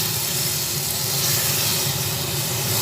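Water poured into a pan of frying spices for an egg and potato curry hisses and sizzles loudly and steadily, filling the whole stretch without talk.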